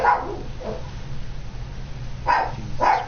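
A dog barks in a few short bursts, a pair near the start and another pair toward the end, moderately close over a low steady background hum.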